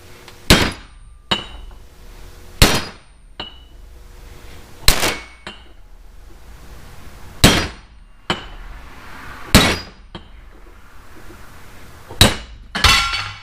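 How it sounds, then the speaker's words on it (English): Sharp metallic hammer strikes on a driver pressing studs into a wheel hub ring out one at a time, about ten blows spaced unevenly, each a bright clang with short ringing decay, close by. "I'm going to hit the back of the driver with the hammer"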